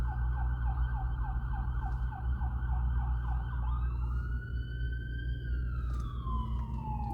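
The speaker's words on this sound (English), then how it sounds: "ambulance going by." An ambulance siren wails through a fast yelp, then shifts to a long falling tone as it passes, over a low, steady road rumble.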